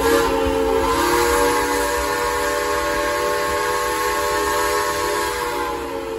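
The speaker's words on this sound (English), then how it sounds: "let's all tell the engineer to blow that whistle" A loud, sustained six-chime steam whistle on the Dollywood Express No. 70 train blows steadily for several seconds, rich and multi-toned, with rail noise underneath.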